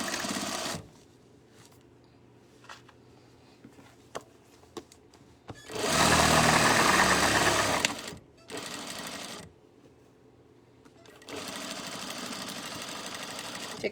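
A sewing machine runs in bursts, stitching a tote bag seam twice with a half-inch allowance: a steady whirring hum for about two seconds, a shorter run, then a longer stretch of stitching, close and clear.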